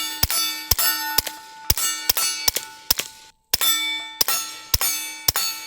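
Bullets strike the metal casing of an electrical transformer, producing about nine sharp, ringing metallic clangs at a fairly steady pace, with a brief silent gap midway.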